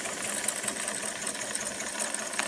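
A Jensen Model 25 toy steam engine with a governor belted to its flywheel runs steadily, giving a fast, light, even mechanical chatter with faint ticking, close and without speech.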